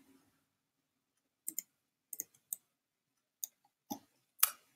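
A computer mouse clicks sparsely while a photo is retouched, painting over part of a roof: several separate, crisp, close clicks at irregular intervals, some in quick pairs, with silence between them and no talking.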